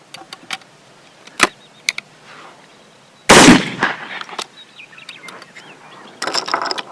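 A Cimarron double-barrel shotgun fires Winchester AA shells outdoors, with one sharp, loud blast partway through, framed by mechanical clicks and clacks of the action opening and closing.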